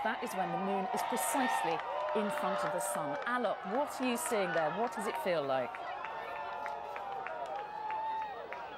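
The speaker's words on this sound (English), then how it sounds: "You can hear the crowd going wild behind me." A large outdoor crowd cheers, whoops and claps loudly as a total solar eclipse reaches totality in the United States in August 2017, the roar continuing under and around a reporter's voice.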